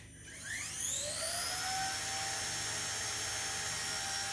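A Blade Nano S3 collective-pitch RC helicopter spools up, its thin high motor whine rising in pitch and then holding a steady buzzing drone, close and alone.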